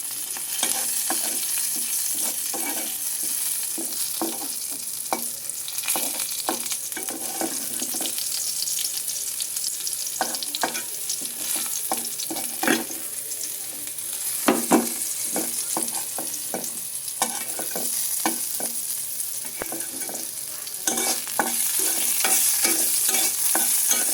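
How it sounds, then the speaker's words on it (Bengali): Green chilies frying in a pan after garlic and onion are taken out, a continuous close sizzle broken by frequent sharp stirring clicks and scrapes of the spatula, with no talk. "কাঁচা মরিচটা একটু ভাজতে হবে"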